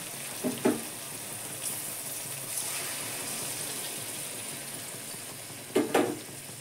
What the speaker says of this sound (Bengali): তো আমি এবার মশলাটা ঢেলে দিচ্ছি